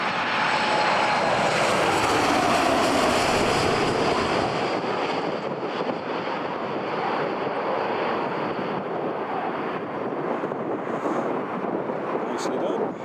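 A TUI airliner comes in to land at Newcastle International Airport, its jet engine roar loud and close at first, then fading to a fainter rush with a descending whine, wind buffeting the microphone.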